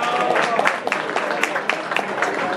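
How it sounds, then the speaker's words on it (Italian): Applause at a running club's annual assembly in Fano greets a marathon runner named Riccardi, a short burst of dense clapping with some voices mixed in underneath. "un applauso a Riccardi."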